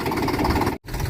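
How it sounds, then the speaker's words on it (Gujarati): A tractor engine running close by, a steady low idling rumble with a brief cut-out near the end before it resumes. "ટ્રેક્ટર લઈ ખરું કરવા જાય હવે"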